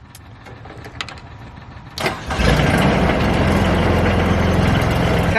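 The diesel engine of a Japa 405 firewood processor, glow plugs preheated, starts with a cranking burst around two seconds in and settles into a loud, steady idle rumble.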